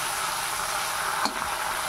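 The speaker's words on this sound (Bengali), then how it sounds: "এবার এটা একটা পাশ ভাজা হোক" Dandakalas leaves frying in oil in a pan, a steady close sizzle with a brief stir or shift partway through.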